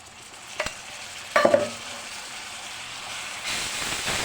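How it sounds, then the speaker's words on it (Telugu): Ginger paste fries in a pan for a mutton curry: a couple of utensil clanks early on, a quieter sizzle in between, then the frying hiss swells louder toward the end. "పచ్చివాసన పోయేంత వరకు ఫ్రై చేసుకోవాలి"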